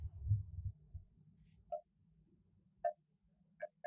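A pen writing notes during a Class 11 biology lecture: faint scratchy strokes and a few light taps near the microphone, set against a quiet room hum with low murmur at the start.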